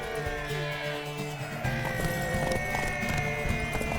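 Horse hooves clip-clop steadily in The Witcher 3, a mounted gallop with regular rhythmic thuds against a constant game soundscape, close and fairly loud.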